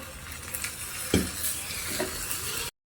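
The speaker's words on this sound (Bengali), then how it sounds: "আবার ভালো করে নাড়াচাড়া করে নেবো" Food frying in a tiny miniature kitchen pan for Basanti pulao, stirred with a few sharp scraping knocks over a soft constant sizzle; sound stops abruptly near the end.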